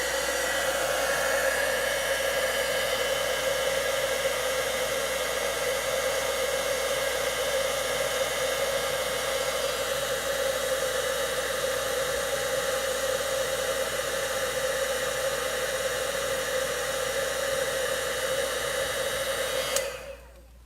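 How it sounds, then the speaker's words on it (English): A heat embossing gun blows with a steady, loud whooshing roar that holds constant for about twenty seconds before cutting off abruptly. "I'm going to give this gun a second to heat up"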